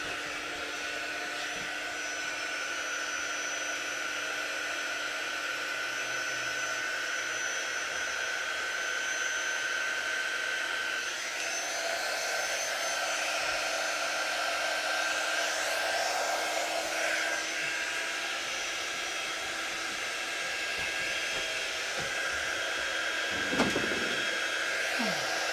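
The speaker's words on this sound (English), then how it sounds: "I'm going to use a hairdryer for this instead" A hair dryer runs continuously for the whole stretch, a steady, fairly close whining blow with a slight shift in tone midway and a brief knock near the end.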